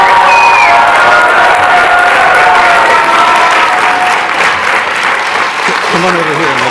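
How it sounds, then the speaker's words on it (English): At the Columbia University 2025 graduation ceremony, a large indoor audience gives steady, loud applause that fades slightly near the end, with a few cheers mixed in. "Let's applaud."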